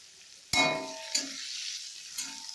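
Chopped onions and a bay leaf dropped into hot oil for a home-style chicken curry, giving a sudden loud sizzle that settles into a steady frying hiss with a couple of stirring clatters.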